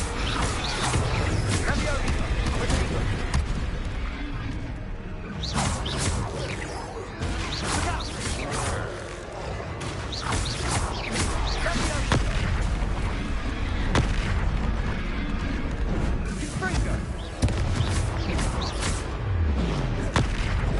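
A Confringo blasting spell explodes in the Hogwarts Legacy video game amid dense, continuous combat noise, with repeated booms and crashing bursts layered over game music and character voices.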